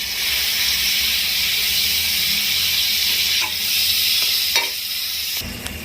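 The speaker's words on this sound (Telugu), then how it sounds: "క్యాబేజ్ ఫ్రై అయిపోయింది కదా ఇప్పుడు కట్ చేసి క్లీన్ చేసి పెట్టుకున్న క్యారెట్స్ కూడా వేసి ఫ్రై చేసుకోవాలి" Cabbage and carrots frying in oil in a pan give a loud, steady hiss with a few scraping stirs near the end.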